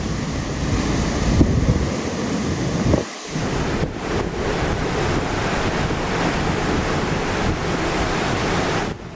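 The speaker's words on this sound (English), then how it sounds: "it's starting to get dark now, the wind's kind of howling." Typhoon Mawar lashing Guam at dusk: strong wind howls and buffets the microphone continuously over the roar of surging ocean surf, loud and steady throughout with no voices.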